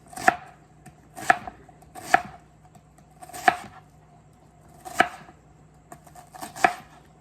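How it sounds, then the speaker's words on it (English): A knife slices through an onion on a cutting board in six sharp, distinct chops at an uneven pace, each a crisp close knock against the board with quiet between. "Cut it into slices, turn it long ways, and then we're just gonna slice it down the side."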